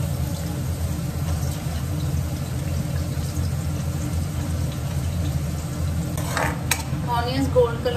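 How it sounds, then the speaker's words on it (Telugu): Sliced onions and green chilies fry in hot oil while being stirred, making a continuous sizzle with scraping and a few utensil clinks near the end. "ఆనియన్స్ గోల్డ్ కలర్లోకి వచ్చేంత వరకు ఫ్రై చేసుకున్నామండి"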